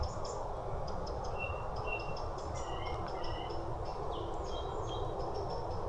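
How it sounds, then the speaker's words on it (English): Small birds chirp and tweet in scattered short calls over a steady, broad outdoor rumble, fairly faint in the distance. "Just heard the birds."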